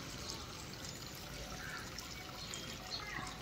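Steady, hissing rush of water being poured out while watering, continuous and moderately faint with a broad splashy texture and no breaks; no talking.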